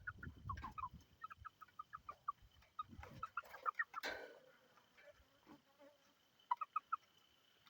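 Young backyard chickens make soft, short clucks and peeps in quick scattered bursts. They sound faint and a little distant over a quiet insect hum.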